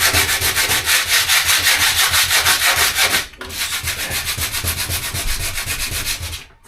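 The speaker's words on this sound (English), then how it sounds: "I'm just going to take the 60 grit sandpaper," Van bodywork is hand sanded with 60 grit sandpaper in fast, regular back-and-forth strokes, loud and close, with a brief pause midway before the rasping resumes.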